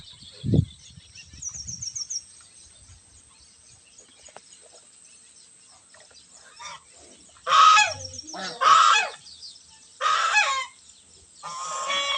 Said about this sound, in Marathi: पाळीव बदक आहेत